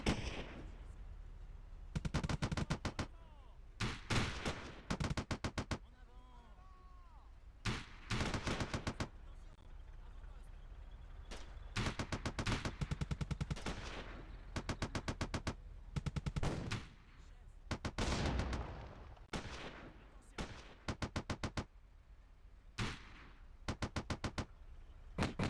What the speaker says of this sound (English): you should really be using your machine gun